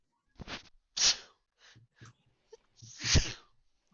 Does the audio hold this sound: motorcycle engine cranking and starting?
no